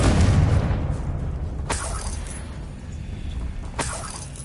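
A Confringo blasting spell from Hogwarts Legacy bursts in a heavy rumbling boom, followed by two sharp cracking impacts a couple of seconds apart over a lingering low roar.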